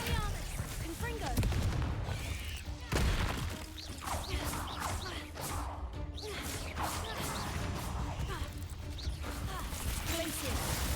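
Spells cast in Hogwarts Legacy, including Glacius, Expelliarmus and Confringo, burst out as repeated whooshes, crashes and impact blasts during busy combat, with the player voice shouting spell names over the effects.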